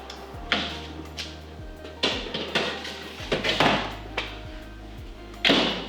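Metal cookie trays of double chocolate chip cookies slid into a kitchen oven, a series of sharp clanks and scrapes at irregular intervals over a low steady hum.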